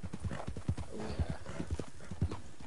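Hooves beat in a regular galloping rhythm as a horse runs in Red Dead Online, each footfall a low thud. A faint whinny is mixed in, with muffled talk in the background.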